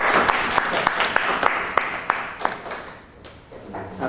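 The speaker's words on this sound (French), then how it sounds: "Applaudissions, je te remercie" A seminar audience claps after a talk, a loose round of applause with distinct individual claps that thins out toward the end, with some voices underneath.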